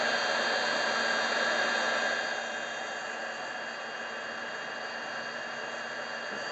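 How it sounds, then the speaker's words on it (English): A heat tool blows steadily to set stamped ink for a Spellbinders star stencil project, a loud, even whooshing hiss with a faint motor whine that drops slightly in level partway through, with no talking. "So I'm going to bring my heat tool in now."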